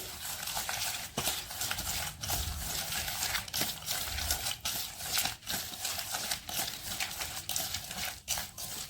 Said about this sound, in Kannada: ಈಗ ನೋಡ್ರಿ ಎಲ್ಲ ಮಿಕ್ಸ್ ಮಾಡ್ಕೊಳಕತ್ತಾರ ಅದು ನೋಡ್ರಿ ನೀಟಾಗಿ ಮಿಕ್ಸ್ ಮಾಡ್ಕೋಬೇಕು